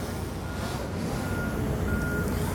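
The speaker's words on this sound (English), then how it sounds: "We have a dump truck coming" A dump truck reverses in an open space, its backup alarm sounding as steady repeated high beeps over a continuous low engine rumble and outdoor background noise.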